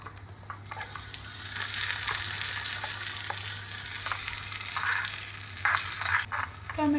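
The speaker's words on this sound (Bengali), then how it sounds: "দেখো, আমার পেঁয়াজগুলোকে ভাজা হয়ে গেছে।" Onions and tomato frying in a small pan for a miniature fish curry in an Indian village kitchen, a soft continuous sizzle with occasional light stirring clicks, quiet and close.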